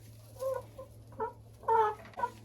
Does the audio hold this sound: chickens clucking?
yes